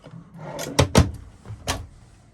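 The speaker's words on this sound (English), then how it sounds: "Some drawers here that slide out." A few quick wooden slides and knocks of drawers being pulled out and bumped inside a 2009 Born Free Class B Plus motorhome, close by with no talking.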